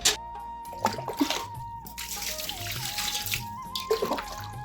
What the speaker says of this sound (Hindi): एक बाल्टी के पानी ले आई हूँ मैं, यहाँ पर अच्छे से पानी से उसको धो देती हूँ।